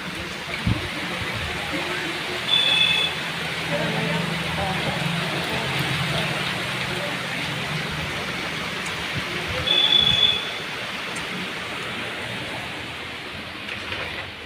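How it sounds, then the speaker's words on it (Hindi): Heavy monsoon rain heard from inside a kitchen pours in a dense, steady hiss with occasional louder gusts, while someone talks over it. "देखिए फ्रेंड्स कितनी ज़बरदस्त बारिश हो रही है, दिख रहा है कितनी मस्त बारिश हो रही है।"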